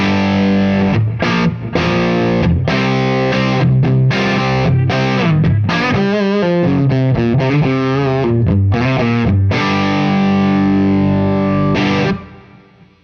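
Electric guitar through a cranked blackface-style amp, heavily distorted chords and single notes ringing loud and sustained, then fading out at the end.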